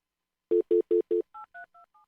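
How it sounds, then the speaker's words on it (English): Telephone keypad dialing tones: four loud, evenly spaced beeps followed by four quieter, higher two-tone pips that fade toward the end, close and clear with no talking. "Okay, it's dialing now."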